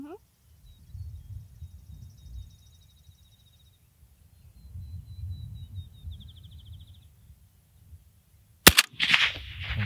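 A PSL 54 / SVD type rifle fires a single sharp, loud shot near the end, following a stretch of quiet, low background rumble and faint chirps.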